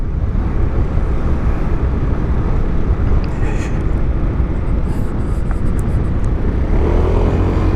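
A SYM HD 300 scooter engine runs steadily during a test ride, a continuous loud drone mixed with heavy wind rush, with no pauses throughout.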